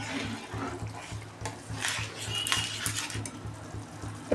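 Paneer masala spice paste fries in a pan while being stirred, producing a low bubbling sizzle with repeated scrapes and light clinks of a utensil against the pan, fairly quiet and without talk.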